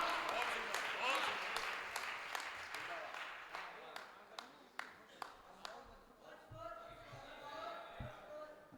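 An audience claps after a poem recitation at a school alumni gathering. Dense applause fades into slower, separate claps, and voices murmur through the last seconds.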